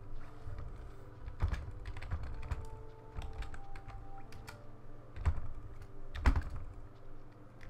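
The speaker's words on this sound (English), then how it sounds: "Seems that my keyboard is doing that annoying thing again where it doesn't work properly" Computer keyboard keys clicking at a desk during a Hollow Knight gaming session: irregular bursts of close, crisp taps with a few louder strikes and short pauses, no voices.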